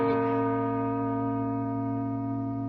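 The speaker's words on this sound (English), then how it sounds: "Listen to the bells." A single deep bell rings out with a long sustained hum, slowly fading as its rich overtones linger.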